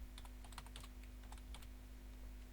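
Quiet keystrokes on a computer keyboard as a folder name is typed, a quick irregular burst of clicks that trails off into a faint steady hum.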